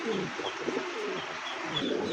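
A male and female pigeon pair coo softly nearby, with low, rolling repeated coos over faint background hiss.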